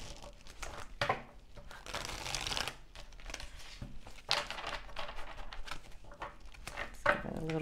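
Tarot cards are shuffled close by in several brisk riffling bursts with soft papery rustles between them.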